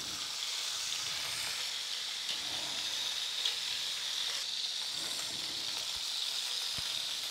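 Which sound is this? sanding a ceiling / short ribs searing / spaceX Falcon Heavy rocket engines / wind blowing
short ribs searing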